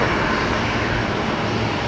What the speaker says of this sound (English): we're going to get the Embraer departure next of Qantas Link